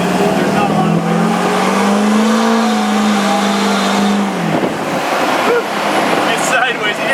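A Predator AT-RV all-terrain reconnaissance truck with upgraded brakes revs hard on the throttle nearby, its loud engine note climbing and sagging before a sharp drop near the end, followed by rougher lower engine noise.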